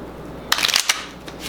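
Tarot cards being shuffled and split, a quick cluster of crisp papery riffling bursts midway followed by a couple of fainter card flicks, close and alone with no talking.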